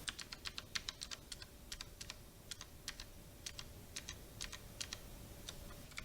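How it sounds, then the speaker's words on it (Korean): Rapid, irregular keystrokes on a computer keyboard while entering Excel shortcuts, crisp clicks in quick bursts with short pauses, close and fairly quiet over a low steady hum. "키보드만 이용해서 이와 같은 편집을 하는 것을 보여드리도록 하겠습니다"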